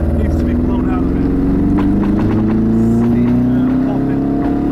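A Mazda RX7 FC Rocketbunny rotary engine that may have sat unused for a long time runs rough, a loud, close, uneven rumble with a rising revving tone and sputtering irregularities, while voices talk over it.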